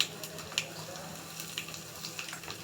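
Crushed garlic and a pinch of asafoetida sizzling in hot oil for a rajma sambar, a soft continuous crackle with small pops, close and fairly quiet, no voices.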